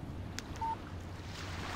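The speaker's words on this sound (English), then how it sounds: "Text message from Barry." A phone text-message alert in the Alan Wake video game: one brief, clean electronic beep over a low wind-and-water ambience.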